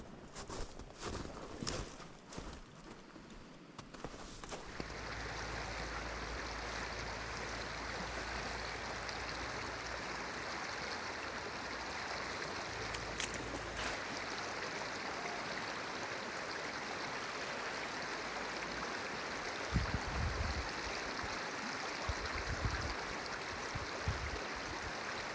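Creek water flowing steadily in the Black Hills in winter, a constant rushing wash that rises after a few seconds of quieter handling noise, with a few thumps and steps near the end.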